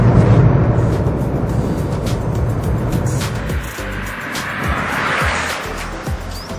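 Inside a moving Honda Amaze with a 1.2 litre petrol engine, loud continuous engine and road noise roars steadily throughout the drive.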